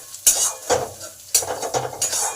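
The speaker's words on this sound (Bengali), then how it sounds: "লঙ্কাটাকে ভালো করে ভেজে নেব" Two green chillies frying with cumin and ginger in a pan: a soft oil sizzle under repeated scraping spatula strokes and light metallic clinks, close and without talk.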